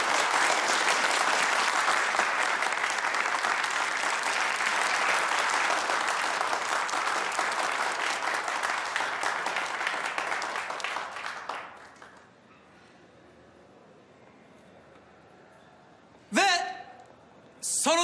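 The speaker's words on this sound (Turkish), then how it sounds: "Arkadaşlar, alkışlarınızla üç kıymetli adayımızı yanıma davet ediyorum efendim." An audience applauds to welcome three candidates on stage, a loud, sustained wave of clapping that fades out around twelve seconds, followed by quiet and a couple of brief spoken bursts.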